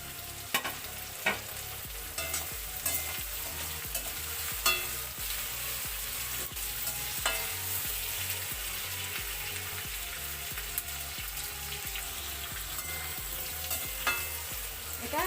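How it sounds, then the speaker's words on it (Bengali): Onion, capsicum and slit green chillies frying in a pan for chilli chicken, a continuous close sizzle broken by regular scraping stirs and occasional sharper clatters. "ভাজা ভাজা করে নেব।"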